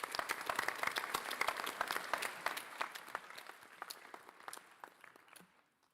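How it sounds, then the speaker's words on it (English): A round of applause at a high school National Honor Society induction ceremony, with distinct individual claps that start fairly strong, then taper off and fade to quiet by the end. "Please join me in thanking them with a round of applause."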